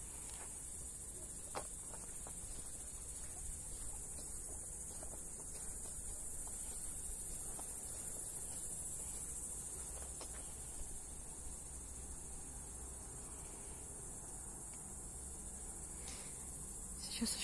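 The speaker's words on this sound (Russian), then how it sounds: "И кузнечики стрекочут." Grasshoppers stridulate in a steady, continuous high chorus beside a river at sunset on a damp, foggy August evening, with faint scattered clicks and low ambient rumble beneath and no talking.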